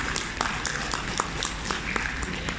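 An audience at a school event for Johor's state education director applauds in scattered, moderately quiet claps, with a low murmur of voices beneath.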